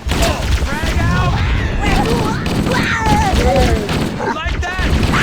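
Gunfire and a frag grenade blast in Halo: Combat Evolved, loud continuous rattling shots with a booming hit, with shouted voices and music over the battle.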